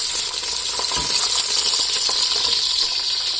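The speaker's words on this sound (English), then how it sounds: "now we are going to add all the vegetables. I turned it down to 6 and it will splatter," Vegetables tipped into a hot pot for mutton soup, spitting and splattering in a steady loud sizzle with scattered crackles and a few clinks, no voices.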